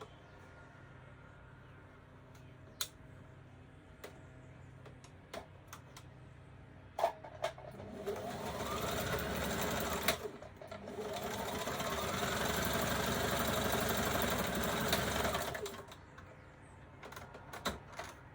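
A sewing machine stitches a skirt seam in two sustained runs of several seconds each, steady and fairly close, with quieter handling clicks before and after and no talking.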